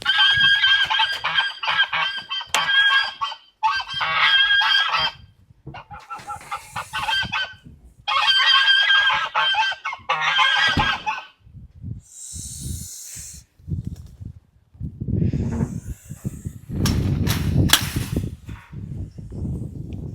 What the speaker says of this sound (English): If you do come down here, don't be scared of the geese.